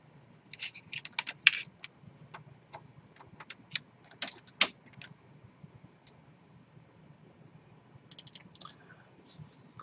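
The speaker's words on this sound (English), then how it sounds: "I'm double clicking on it" Mouse clicks on a computer, a few crisp close clicks among scattered light ticks and taps, quiet and alone with no talk.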